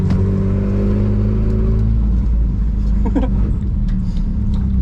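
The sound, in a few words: Volvo 740 engine accelerating after shifting into third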